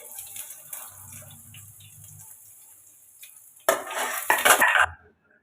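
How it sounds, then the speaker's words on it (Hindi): Chopped onion dropped into a kadai already holding cumin and green chillies, first quiet faint kitchen clatter, then a sudden loud burst of hissing sizzle for about a second before it cuts off. "अब डाल देते हैं प्याज।"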